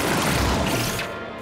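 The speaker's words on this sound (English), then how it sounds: "It was so short, and it had an explosion!" A loud cartoon explosion erupts as a dense, roaring blast that fills the whole clip and then thins slightly toward the end, with no voices over it.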